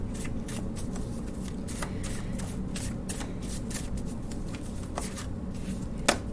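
A deck of cards for a pick-a-pile card reading is shuffled by hand, with a steady run of crisp riffling and flicking close to the microphone and a sharper snap at the end.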